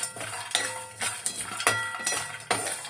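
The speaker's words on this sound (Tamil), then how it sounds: "இதை கொஞ்சம் நல்லா வறுத்துக்குவோம்" Urad dal, dates and cardamom dry-roasting in a pan, with rhythmic scraping and metallic clinks of a spatula against the pan about every half second, close and fairly quiet.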